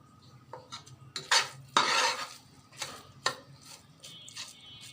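A spoon stirs zarda pulao, sweet rice with pumpkin morabba, in a pot, giving irregular scraping and clinking strokes against the metal, some sharp and loud, with soft rustling between them.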